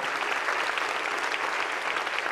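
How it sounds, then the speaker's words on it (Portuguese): Church congregation applauding, dense, loud, steady clapping filling the whole moment. "vamos aplaudi-los mais uma vez, por favor"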